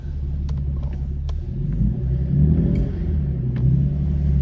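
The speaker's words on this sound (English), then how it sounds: "Ooh, we got a speed bump." An Infiniti G37 coupe, sitting fairly low, rolls over a speed bump, its engine giving a steady, close, deep rumble that swells slightly midway, with no voices.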